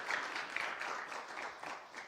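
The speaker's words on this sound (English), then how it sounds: "Give another round of applause." An audience at a human trafficking awareness event applauds, a dense patter of clapping hands that stays steady and moderately distant for about two seconds.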